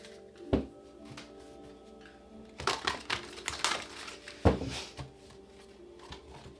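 Tarot cards shuffled close by, with a sharp slap near the start, then a cluster of crisp riffles and taps in the middle and another firm snap toward the end, over faint room hiss.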